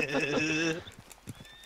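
A horse in the video game Red Dead Redemption 2 whinnies loudly, then gallops off with quick hoofbeats fading into the distance.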